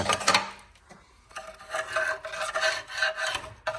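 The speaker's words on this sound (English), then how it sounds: "I gotta scrape all this crap off and clean this up nice and good" Caked dirt being scraped off a neglected Jeep Cherokee XJ valve cover, a close, rough rasping that comes in uneven strokes with a brief pause in the middle and no talking.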